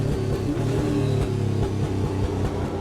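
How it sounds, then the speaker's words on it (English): A Trans Am race car's exhaust drones as it leaves pit lane at Portland in 2024, a steady, slightly strained mid-pitched engine note with small rises in revs, heard clearly and without talk. "You can hear his exhaust there."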